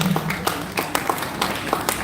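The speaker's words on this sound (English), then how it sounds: "a round of applause for Dr. Abraham" Crowd at a real estate panel session clapping as panelists come up on stage, a continuous patter of scattered hand claps with a few sharper individual claps, moderately loud and without speech over it.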